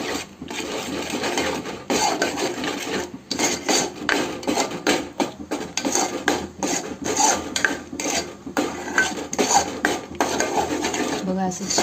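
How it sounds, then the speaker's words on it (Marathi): Prawn masala being mixed in a pot, with continuous close metallic scraping and clanking from a spoon against the pot's sides, loud and dense throughout with short pauses between strokes. "बघा असं छान मिक्स करून घ्यायचं."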